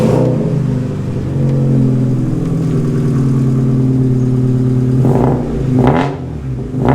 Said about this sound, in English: So the exhaust is off the car at the moment